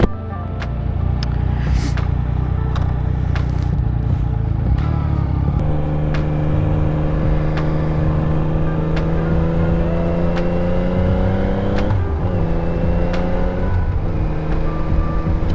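A motorcycle engine on a road, loud and close throughout, holding a steady drone, then shifting up a gear and accelerating with a rising, smoother note, with a few brief clicks along the way.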